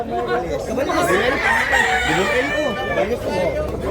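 A chorus of large adult roosters crows continuously at a market in Tabunok, Cebu, the wavering calls layered densely and close, with people talking faintly underneath.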